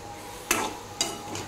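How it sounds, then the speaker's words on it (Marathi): Green chillies stirred in hot oil in a pan, with two sharp bursts of spatter and scraping about half a second apart over a steady low sizzle, close and alone. "मिरची आता 2 मिनिट तेलात परतून घेणार आहे"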